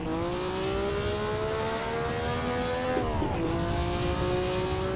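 A 1957 Formula 1 car of about 350 horsepower in Assetto Corsa at the Buenos Aires circuit, its engine droning loud and steady and briefly dipping in pitch at a gear change, with tyre noise underneath.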